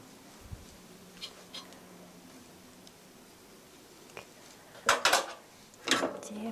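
Kitchen prep of spicy tteokbokki with grapeseed oil going into a pan: faint taps at first, then two sharp, close metallic clatters of pan and utensils near the end.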